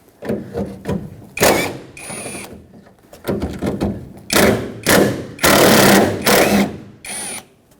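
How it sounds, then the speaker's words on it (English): A ratchet with an 11 mm socket rapidly clicks as it removes the two mounting nuts holding the tailgate handle and lever on a 2011-2016 Ford F-series pickup, in loud, close bursts separated by short pauses. "Now use an 11 millimeter socket to remove these two mounting nuts holding this lever and the tailgate handle all at the same time."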